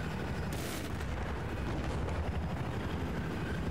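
Heavy tank gunfire in a Russian-side multiplayer tank battle game, a dense continuous rumble of shots and booms with one sharper blast early on, loud and steady throughout.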